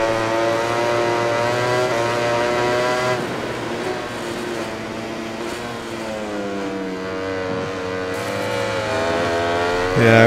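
A Ducati GP20 MotoGP bike in MotoGP 20 racing at Assen, its engine droning steadily with rising and falling revs, loud and continuous.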